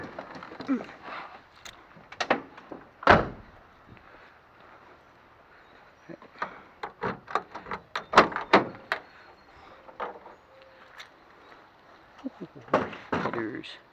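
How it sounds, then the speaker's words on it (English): A car's back door at a scrapyard is opened and shut, giving a series of sharp clunks and thuds spread unevenly across the clip, close and moderately loud, with softer knocks and faint voices between them. "Back door again."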